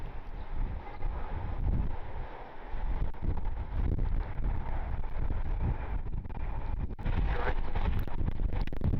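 Strong wind gusts buffet the microphone at Cleveland Hopkins airport in a steady, rumbling roar that swells and surges, loudest toward the end.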